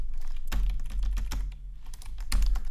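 Code is typed on a computer keyboard in a React tutorial, with fairly rapid close key clicks broken by short pauses and a couple of heavier keystrokes, no voices.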